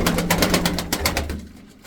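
Pigeons coo in low, throaty tones close by, with a rapid flurry of fluttering, flapping pulses at the start that fade away.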